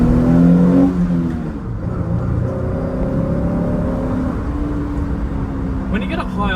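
A 2010 Jeep Wrangler Sport's 3.8-litre V6 engine revs up through the gears with a rising, droning whine, heard from inside the vehicle with steady road noise beneath it.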